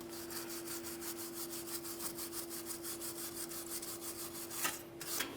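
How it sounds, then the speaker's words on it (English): A wire brush scrubs the mating surfaces of a differential yoke on a 2007-2013 Acura MDX, making faint, rapid rhythmic rasping strokes up close, with a steady hum beneath and no talking. "the next thing that you need to do is clean each one of the mating surfaces. We'll start with the differential yokes. For this, I'm just using a wire brush."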